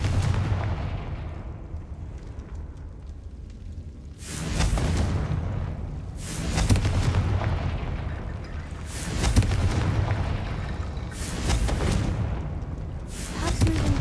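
Repeated Confringo blasting spell explosions in the Hogwarts Legacy video game, five loud booming bursts spaced a couple of seconds apart, each with a rushing roar that fades out.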